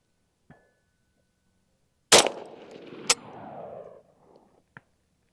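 An original Armalite AR-180 rifle fires two sharp, loud outdoor shots about a second apart, each followed by a fading echo, with a couple of faint clicks before and after.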